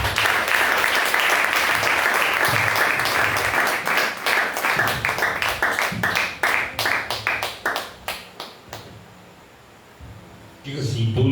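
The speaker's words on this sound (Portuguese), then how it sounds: "Vamos receber o nosso Pai de louvor. Vocês com salve de palmas." A church congregation bursts into loud, sustained applause that thins into scattered separate claps, falls quiet briefly, then swells again at the end.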